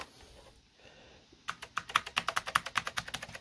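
Keys of an Apple llc computer keyboard clatter in a quick, close run of crisp clicks after a quiet start, steady and fairly loud with no talking.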